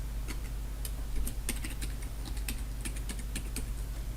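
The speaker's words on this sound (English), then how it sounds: "I'm going to go ahead and type in my password." A password is typed on a computer keyboard, a run of light, quick key clicks at an uneven pace over a low steady background hum, with no voices.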